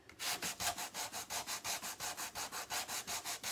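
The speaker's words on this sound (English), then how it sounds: "I sanded it." Quick, steady back-and-forth sanding strokes on a plastic sled, about a dozen rhythmic scratchy rubs in a row, close and even.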